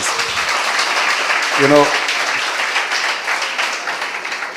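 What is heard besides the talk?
audience applause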